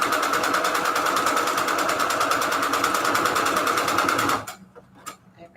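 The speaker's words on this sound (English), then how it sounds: "I've been doing a lot of straight stitching" A sewing machine runs straight stitching at a steady rapid chatter, loud and close for about four seconds, then stops abruptly, leaving a few faint clicks and handling noises.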